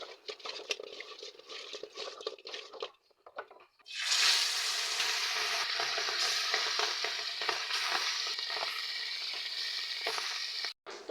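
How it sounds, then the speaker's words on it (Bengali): Fish rubbed with turmeric and chilli frying in a kadai: a loud, dense sizzle that bursts in abruptly and holds steady for several seconds, preceded by scattered clatter and stirring noises, then cut off near the end. "এদিক দিয়া কড়াই দিয়া মাছ বসাই দিলাম"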